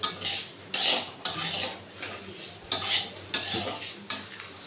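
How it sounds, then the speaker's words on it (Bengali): A metal spoon scrapes and clatters against a pot while lentils for bhoger khichuri are stirred and fried, in several rhythmic bursts with a faint sizzle underneath and no talk. "দেখুন ডালটাকে আমি ভালো করে নাড়িয়ে চাড়িয়ে একটু ভেজে নেবো, যে একটা সুন্দর গন্ধ উঠবে।"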